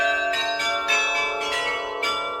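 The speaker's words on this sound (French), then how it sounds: "C'est un carillon à clavier." A keyboard carillon, the bell instrument high in a tower in Geneva, rings out a sequence of sustained, resonant bell tones struck in irregular succession, with no voices.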